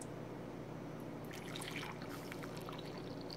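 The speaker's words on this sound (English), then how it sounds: "I now have a pot of the CAF brewed. I'm going to pour it into my coffee cup." Freshly brewed Black Rifle Coffee CAF is poured from a pot into a coffee cup, a faint, soft liquid trickle over a low background hum, with no voices.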